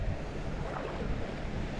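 Wind buffets the microphone at a shoreline fishing spot, with a steady broadband rush and low gusty rumble, blended with lapping water, fairly quiet and without talk.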